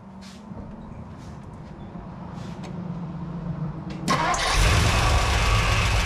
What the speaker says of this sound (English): I'm getting ready to hook the battery up and get this thing cranked up.